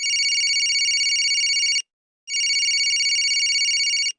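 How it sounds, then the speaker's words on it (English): A phone rings with a bright, buzzing electronic trill in two long bursts separated by a short pause, close and loud, with no voices. "Suddenly, my phone rang."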